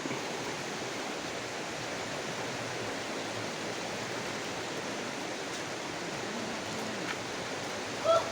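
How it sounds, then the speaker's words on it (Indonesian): Steady broadband rush of the Lamat River flowing, a continuous even wash of water with no talk, holding level throughout. "Ini adalah Sungai Lamat."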